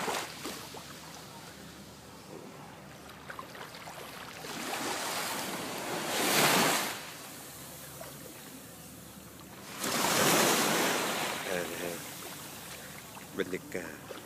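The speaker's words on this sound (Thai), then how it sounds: "นี่เรือที่มาค่ะ" A boat arrives over sea waves at Phi Phi island: steady wind and surf with two broad swelling rushes of water as it approaches, faint voices underneath.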